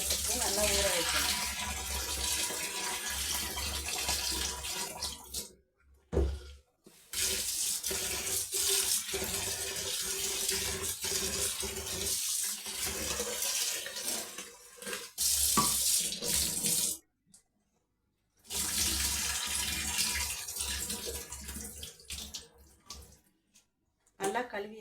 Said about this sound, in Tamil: உளுந்து 1 டம்ளர் சேர்த்து நல்லா கழுவி போட்டு நல்லா கழுவி